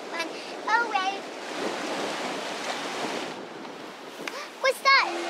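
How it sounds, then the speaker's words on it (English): Big ocean waves crash against rocks on a Bali shore, a broad steady roar of surf with wind noise. Excited voices talk briefly at the start and end. "There's big, huge waves coming in, smashing against the rocks and blowing water up into the sky."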